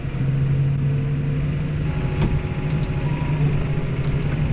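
A T7 210 tractor engine runs at a steady drone with the PTO engaged at 540, a low constant hum close by with faint clicks over it and no talk.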